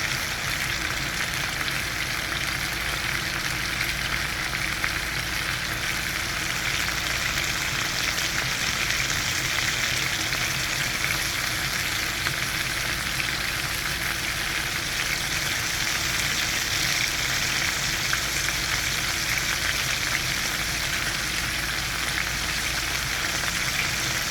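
A loud, constant sizzle of onions browning in hot oil in a pan for a bean curry, dense and unbroken throughout with no speech.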